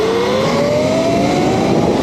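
Sur-Ron electric dirt bike fitted with a Torp TC500 controller accelerates hard, giving a steady rising motor whine over wind and road rush.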